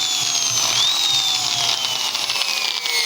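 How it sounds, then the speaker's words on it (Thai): An electric drill plugged into a mains socket runs with a steady, loud whine and a faint drifting tone, alone with no talking. "ลองกดสว่าน"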